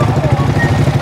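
A manual-gear motorcycle ridden by a first-time learner chugs at low revs as the clutch is let out and throttle gently added, a steady close low throb with a voice faintly present.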